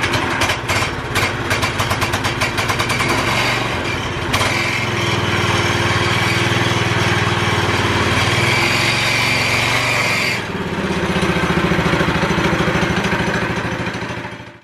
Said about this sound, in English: Here's how this old engine runs.